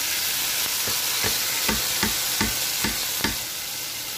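Hot oil sizzles loudly as a tadka tempering is poured into karhi pakora, a constant frying hiss close to the microphone, broken by regular stirring scrapes.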